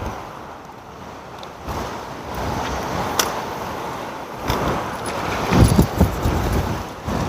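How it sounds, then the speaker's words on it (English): Steady rushing wind buffets the microphone, with gusty low rumbles and occasional thumps growing stronger toward the end; no one speaks. "Wow, it's so windy."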